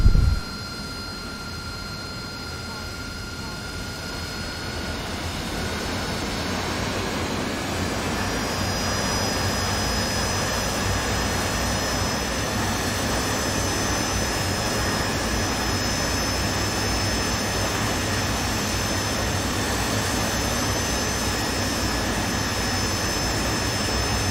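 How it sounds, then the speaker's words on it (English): Jet engine roar of an aircraft in a video game during a vertical takeoff, a loud, steady, dense rush with high whining tones running throughout, heard alone without talk. "So I'm going to do a vertical takeoff again."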